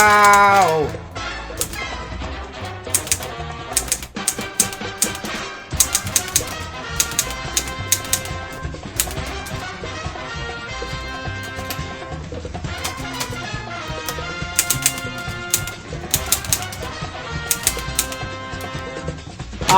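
An old manual typewriter is typed on steadily, with dense, loud, crisp key strikes and clacks in irregular bursts and occasional carriage and handling knocks, close up with no talk over it.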